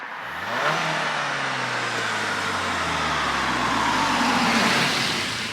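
A car with an Integrated Engineering tune sweeps past on the road. Its engine note rises as it approaches and then drops in pitch as it passes close by, leaving a sustained roar trailing off.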